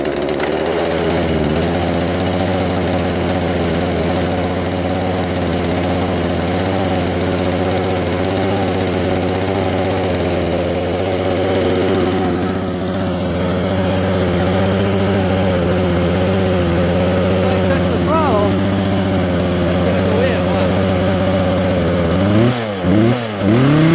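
A chainsaw engine running steadily with the choke half out, a loud continuous buzzing drone close by that holds its pitch, wavering slightly near the end.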